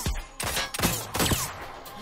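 P-12K gun firing in the shooter game Rogue Company: a handful of sharp, close shots in a quick burst, each with a short ringing tail.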